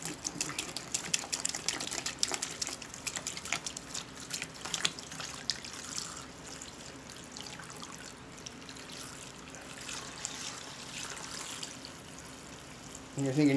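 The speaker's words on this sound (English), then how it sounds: "I'm going to add a gallon of water to it." Treated tap water, a gallon of it, pours steadily onto a substrate brick for a plant terrarium, a continuous splashing trickle that fades gradually as it soaks in, with no talking.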